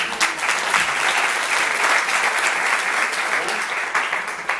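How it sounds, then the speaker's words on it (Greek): Warm audience applause at a presentation, a dense and continuous wash of many hands clapping together at a steady, fairly loud level from start to finish. "Ένα θερμό χειροκρότημα στη Λέτα."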